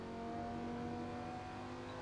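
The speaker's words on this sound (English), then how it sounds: "We're going to go gear 2 so we get the revs" A race car's engine revs in second gear in the Assetto Corsa racing game at Bathurst, a steady tonal drone held throughout, fairly quiet and unbroken.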